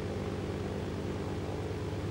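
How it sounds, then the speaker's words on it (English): Biplane propeller engine in the video game ARMA 2, a steady droning hum with a buzzing tone that holds evenly throughout, loud and close with no voices. "I'm flying a plane on the road."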